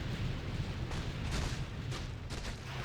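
Artillery bombardment in a space strategy video game, a dense rumbling barrage of low booms with several sharper blasts punctuating a continuous roar, loud and close, with no talk.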